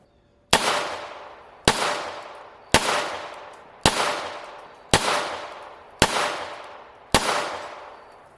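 Seven evenly spaced gunshots from a Walther PPK SD pistol in .32 ACP, each a sharp loud crack with a short decaying echo, roughly one second apart.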